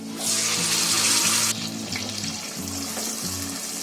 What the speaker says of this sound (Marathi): आता ही आपल्याला ग्रेव्ही आहे ना चांगली फ्राय करून घ्यायची आहे, शिजवून.